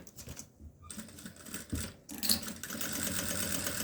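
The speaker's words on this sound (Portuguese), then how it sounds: "Vou passar uma costura aqui, nessa parte todinha onde eu risquei, nessa parte central, eu vou passar uma costura." A sewing machine runs in short bursts as it stitches a seam along a drawn line, pausing briefly before starting again and running steadily to the end.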